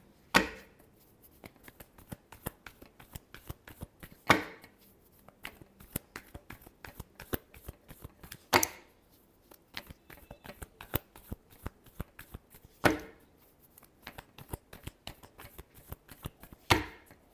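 Tarot cards shuffled by hand in close, crisp riffling bursts, quick papery flicks running in a steady rhythm with a louder slap of the deck roughly every four seconds.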